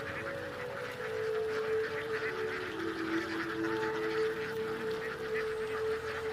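Ducks swimming in a flooded paddy field in a Kerala village honk and quack at a distance, forming a sustained layered chorus of calls over a soft outdoor background.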